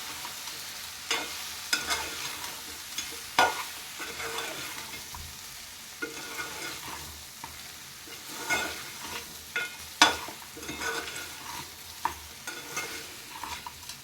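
Chicken pieces for a country chicken curry fry in a pan with a steady sizzle, broken by the scrape and clatter of stirring every second or two, close and fairly loud with no talking.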